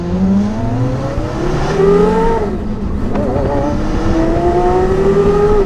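A pink Porsche Carrera GT drives past, its engine revving up through the gears with rising whines, a brief dip between shifts, loud and close throughout.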